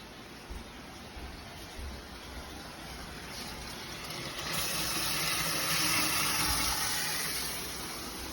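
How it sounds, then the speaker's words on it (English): Kitchen tap water running and starting to sputter as the supply runs out, a steady broadband rush that swells louder midway and stays fairly close, with no voices. "the water will start to sputter as it's running out"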